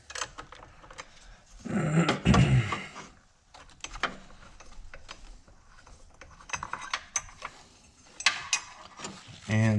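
A ratchet loosens a 10mm nut on the battery hold-down of a 2017 Mazda CX-5, giving short bursts of close mechanical clicking with a louder cluster early on and quieter scattered ticks after.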